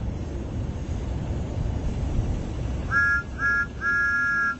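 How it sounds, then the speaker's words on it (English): A steam engine whistle in Roblox Thomas and Friends sounds three times, two short blasts then a longer one, over a low rumbling background. "That's Thomas's whistle. All steam engines have whistles"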